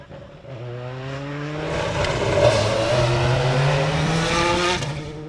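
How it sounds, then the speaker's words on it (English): A big WRC rally car drives a dark stage at the Jersey Rally, its engine climbing through gears with rising revs and a passing roar, loud and steady, no voices. "The dark stage is not making it any easier for the big WRC car."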